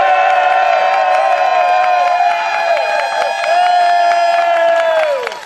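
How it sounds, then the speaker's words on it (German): A crowd at a TSV Weilimdorf sports club event cheers loudly, with whoops and shouts including children's voices over steady applause, sustained for several seconds before tapering off at the end. "der Daniel hat auf jeden Fall noch einen ziemlich fetten Applaus von euch verdient"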